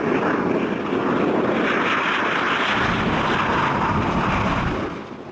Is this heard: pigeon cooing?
no